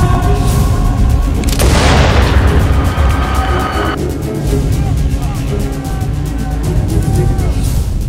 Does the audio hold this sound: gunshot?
yes